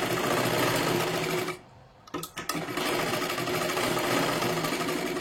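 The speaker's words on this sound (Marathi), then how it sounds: "त्याच्यावरती आपल्याला डबल अजून एक शिलाई मारून घ्यायची आहे." A sewing machine runs a second line of double stitching on a katori blouse, a loud continuous close whir that dips briefly into a pause with a few clicks before resuming steadily.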